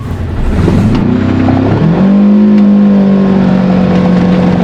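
Polaris Ranger Northstar UTV fitted with a new clutch kit driving at 25 to 30 mph in high gear, a loud close engine drone and whine that climbs in pitch then holds steady as it cruises.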